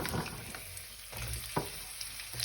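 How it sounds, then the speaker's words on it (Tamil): Potatoes cut into long strips fry in hot oil, a steady close crackling sizzle with brief stirring bursts and no voices. "இப்போ உருளைக்கிழங்கு போட்டிருக்கிறேன் அது வந்து நல்லா பொரிஞ்சு விரட்டும்"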